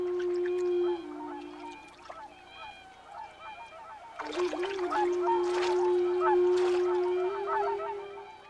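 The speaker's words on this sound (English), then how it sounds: "Known in Japan as ohakucho, or the big white birds, they're anticipating the arrival of the spring thaw and preparing for their migration north" Whooper swans honk and bugle in Hokkaido, Japan, with a sustained nasal call throughout and bursts of overlapping calls from several birds in the second half, fairly loud and close.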